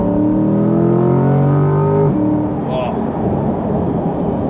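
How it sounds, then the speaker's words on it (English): A C8 Corvette or Camaro 1LE accelerates hard, its exhaust climbing steadily in pitch before a sharp upshift crack at about two seconds, then a rougher, lower roar that continues loud and close. "those cracks on the upshift are just ridiculous"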